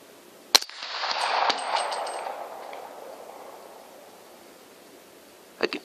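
A .22 rifle fired under a metal roof: one sharp, loud shot followed by a long ringing metallic decay, then a second shot near the end.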